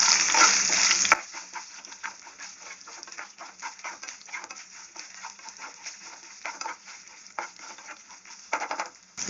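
Coconut and onion fry lightly in a pan, a soft crackling sizzle with scattered stirring scrapes after a brief louder burst at the start, fairly quiet and close.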